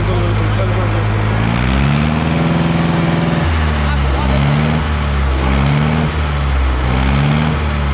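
A 1958 Fordson Power Major tractor engine runs close by with a loud, steady diesel chug, its pitch stepping up and down as the throttle changes, with voices speaking over it.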